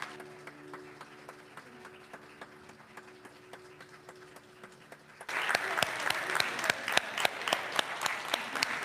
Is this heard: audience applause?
yes